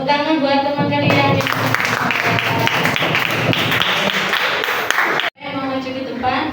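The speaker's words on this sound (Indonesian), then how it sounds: "Nah, tepuk tangan buat teman kalian." Students in a classroom clap for a classmate, a dense, steady patter of many hands lasting several seconds before stopping abruptly, with talk over and after it.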